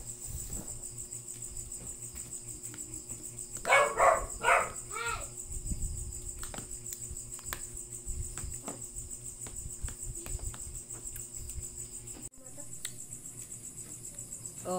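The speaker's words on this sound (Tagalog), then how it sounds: "Maingay yung aso." Several quick dog barks ring out against a constant chorus of crickets, with faint talking and household noise underneath.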